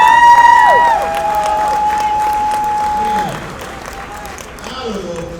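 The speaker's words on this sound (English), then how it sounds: "Let's give a round of applause." A crowd at an amateur boxing event applauds and cheers loudly, with a sustained whistle-like tone over the clapping that fades midway, and voices are heard over it.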